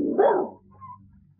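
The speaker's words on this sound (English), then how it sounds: "No, I think Crab, my dog, be the sourest natured dog that lives" A single gruff bark from a dog, close and loud, falls away into a short soft whimper in a quiet indoor scene.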